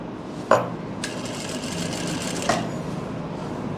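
Sewing machine stitching a belt onto pants, a steady whirring run of needle strokes with a couple of sharp clicks at the start and near the end.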